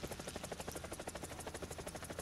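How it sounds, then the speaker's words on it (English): An AH-64 Apache helicopter in the War Thunder video game, a steady rapid rotor chop with a buzzing engine drone, continuous and even, with no voices. "she's a cool helicopter"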